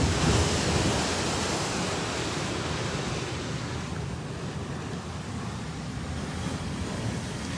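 Ocean surf breaks against the sea wall at Chatan, Okinawa, in a dense, continuous wash of rushing water. It is loud and close and stays fairly steady throughout, with no voices.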